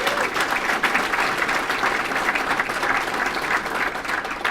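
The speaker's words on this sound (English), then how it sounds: "So how about a round of applause for our guys and all their service." An audience at a baseball first pitch dinner applauds in a steady, dense wash of clapping that fills the room, with faint crowd murmur beneath.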